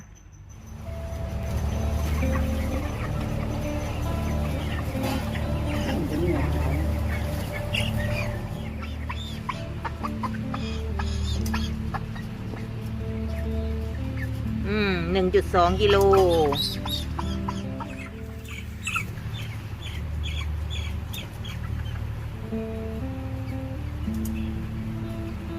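Farm chickens cluck and murmur intermittently while being weighed, fairly close, as someone speaks over them and reads out a weight.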